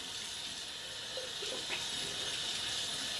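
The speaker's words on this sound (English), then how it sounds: "After you wash your face with like warm water, rinse it with cool water." Tap water runs steadily into a sink as a face is washed, a continuous broadband hiss with faint splashes, fairly quiet and unbroken throughout.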